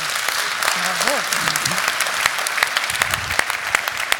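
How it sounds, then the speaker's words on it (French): An audience applauds after a talk, sustained clapping from a sizeable crowd with a voice speaking briefly over it. "On peut encore l'applaudir, mesdames et messieurs."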